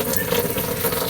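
Water runs steadily from a tap to collect in a container during a household power concern, a continuous close splashing stream with no talk.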